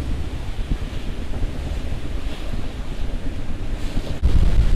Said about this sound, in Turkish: Bütün gece rüzgar bekledik. En sonunda geldi.